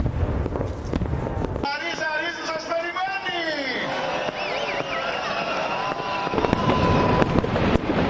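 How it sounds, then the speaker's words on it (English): Fireworks blasting over the Acropolis in Athens at a New Year celebration, with dense crackling and booming bursts and whistling rising streaks over a continuous crowd hubbub, loud throughout. "In Greece, fireworks were blasted over the Acropolis of Athens."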